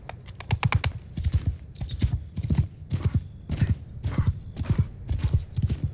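Horse hooves pound in the video game Mount & Blade 2: Bannerlord, rapid clusters of close, thudding clip-clop beats in an uneven galloping rhythm, with brief gaps between bursts.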